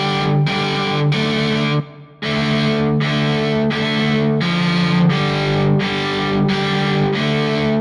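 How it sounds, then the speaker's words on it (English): Distorted power chords from a sample library ring out in loud, evenly spaced rhythmic strikes, with one brief gap near the start. "And you'll get power chord sounds with that kind of stuff."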